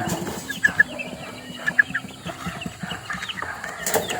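Chickens, including a white Kelso rooster, cluck in short, scattered bursts nearby in a backyard, with soft scratching and rustling farmyard noise underneath.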